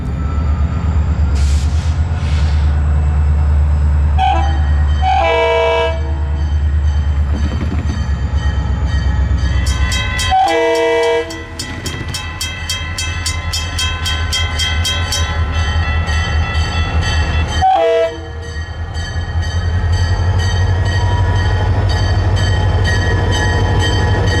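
An FEC ES44C4 freight train hauling concrete high-and-wide loads rumbles past close by, wheels clanking steadily, while a loud air horn blasts several times in short bursts.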